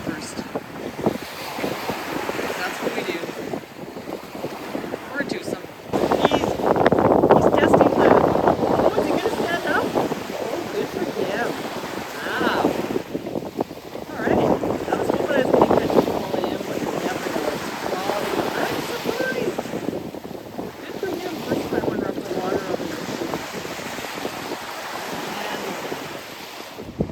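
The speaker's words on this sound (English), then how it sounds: "So we decided to sit here in the wind" Wind blows hard at the beach at Fort Worden, with surf washing in and gusts buffeting the microphone. The roar swells strongly in places and runs continuously throughout, and no one talks over it.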